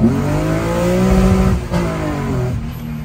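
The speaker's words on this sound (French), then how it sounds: "Ce bruit de boîte à air. Voilà, le son. Ah, Le son, c'est le son BM." A BMW car engine revs with a strong, reactive growl and a pronounced air-box intake roar. The pitch sweeps up and holds, dips briefly, then rises again, loud and close throughout with no talking.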